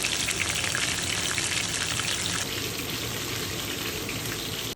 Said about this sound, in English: So enjoy this sizzle.